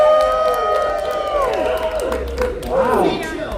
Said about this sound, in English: I want hooting and hollering, yelling and screaming, stomp your feet, clap your hands.